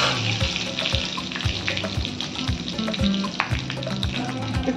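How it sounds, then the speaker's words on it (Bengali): Cumin, cracked cardamom, cinnamon, cloves and a bay leaf sizzle in hot oil for a simple green jackfruit curry. The steady crackle is punctuated by regular knocks of a stirring spoon against the pan, with no talking. "তেলেতে আমি দেবো একটু জিরে, গরম মশলা, এলাচগুলো একটু ফাটিয়ে নিয়েছি, আর দারচিনি, লবঙ্গ আর একটা তেজপাতা।"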